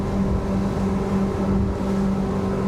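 A powerful 350 hp V10 outboard engine on a Tesoro T40 boat drones steadily at close range while accelerating, its low hum holding a constant pitch with water rushing underneath.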